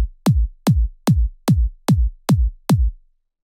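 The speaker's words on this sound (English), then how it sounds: "So yeah, I'll start with the kick." A programmed donk-style kick drum pattern from FL Studio thumps seven times in a steady, evenly spaced rhythm, each hit deep and punchy with a short decay, loud and alone.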